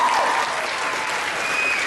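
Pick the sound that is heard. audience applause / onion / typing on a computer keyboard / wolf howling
audience applause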